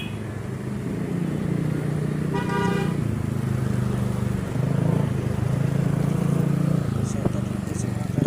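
Busy street traffic at the Rodriguez and Manggahan corner in Pasig City rumbles steadily with passing engines, and a car horn toots a short repeated blast partway through; voices murmur faintly beneath.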